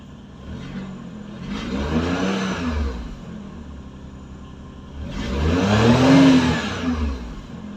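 A car engine right after a spark plug change, revving up twice in swelling bursts over a steady running idle, close and fairly loud, with no talking.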